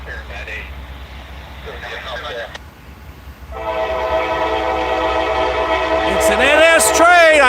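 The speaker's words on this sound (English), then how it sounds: "It's an NS train." Norfolk Southern freight train passing a rural road crossing near Chattanooga, its horn blaring in long sustained chords over the heavy rumble of the train, loud and close, with rail noise building after a quieter start and faint talk early on.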